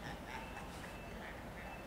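A duck quacks in a series of repeated nasal calls spaced evenly over a couple of seconds, moderately close against a steady background hiss, with no talking.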